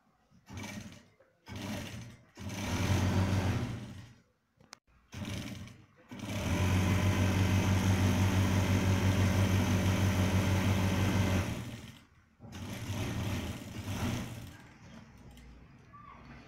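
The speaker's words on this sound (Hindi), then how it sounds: "सिलाई करेंगे" A sewing machine stitches a pant hem in short bursts at first, then runs in one long steady whir before stopping, and resumes with another stretch near the end; no voices over it.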